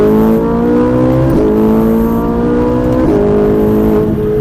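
A Ferrari 458 accelerating on the Mettet race circuit, a loud close engine roar rising in pitch through the gears with two brief dips at the shifts.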